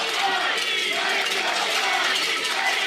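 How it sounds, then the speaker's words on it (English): A crowd at a professional pickleball match in New York cheers and roars steadily for the home team, a loud, dense wash of voices that is sustained across the whole moment. "Crowd comes alive in favor of the fives."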